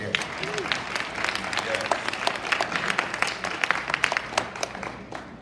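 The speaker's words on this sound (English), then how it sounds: "that deserves a round of applause right there" An audience applauds at a student induction ceremony, a dense burst of clapping from a crowd in a hall, with a brief spoken word over the start.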